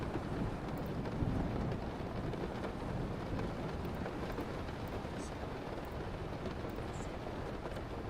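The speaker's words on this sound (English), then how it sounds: "Oh, that rain is loud," Loud rain roars outside during a coding session, a dense, unbroken wash of noise that fills the whole stretch without any speech.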